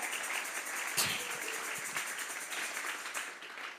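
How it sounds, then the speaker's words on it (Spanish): A church congregation claps together as an offering of praise, a soft, steady patter of many hands heard from a distance for a few seconds. "Vamos a regalarle ofrenda de palmas al Dios de la gloria."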